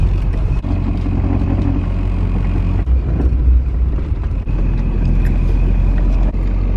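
A diesel vehicle drives toward a gas station, its engine a steady loud low rumble heard from inside with road and wind noise, no talking.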